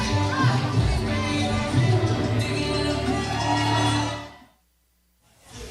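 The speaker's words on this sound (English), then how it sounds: "The crowd certainly likes him better than Joey Avalon." Wrestling event crowd roaring and cheering for an entrant, a loud continuous swell that cuts off abruptly into near silence before returning faintly.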